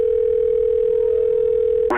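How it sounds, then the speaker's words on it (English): A telephone call to a doctor's number placed by a police officer, heard as a loud, steady single-pitch tone held for about two seconds, cut off by a brief click at the end. "one of the police officers called Dr. Tatum's phone number"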